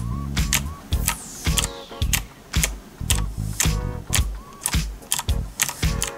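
A mechanical keyboard fitted with typewriter-style keys clatters in an uneven run of sharp, close clicks and clacks, with mechanical rattles between strokes and no talking.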